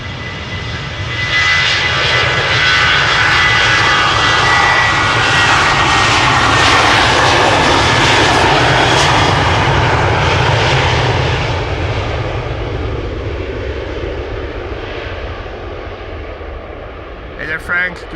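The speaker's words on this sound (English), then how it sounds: "This is KLM flight 1775 going to Berlin." A KLM jet airliner, flight 1775 to Berlin, departs Amsterdam Schiphol up close, its heavy engine roar loud and sustained before gradually easing, with voices briefly audible at the end.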